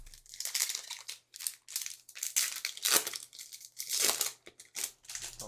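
A Yu-Gi-Oh! The Grand Creators booster pack wrapper is torn open close by, giving bursts of crinkling and ripping foil over several seconds, with short pauses between them.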